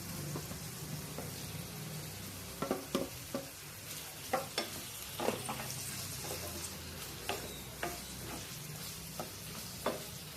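Chopped ridge gourd and finely chopped tomatoes being sautéed in a pan, a steady soft sizzle broken by irregular scraping knocks of a spoon stirring, close and alone without talk.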